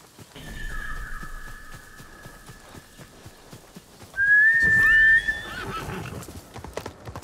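In the video game Ghost of Tsushima, a horse lets out a long neigh and then a sharper, louder whinny, with hooves clip-clopping steadily underneath the whole time.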